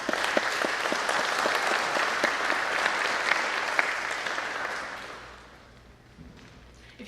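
Audience applause at a kick-off event for a steering team, a dense, steady wash of many hands clapping that holds for several seconds, then tapers off and dies away into quiet room tone.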